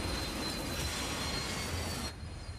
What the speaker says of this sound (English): If you think trains will stop if they see a car on the tracks